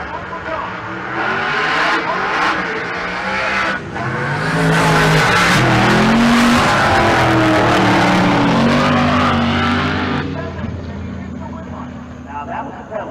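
Drag race car making a full pass at Pueblo during a race week event, a loud roaring engine building and sustained for several seconds before easing off, with an announcer talking over it.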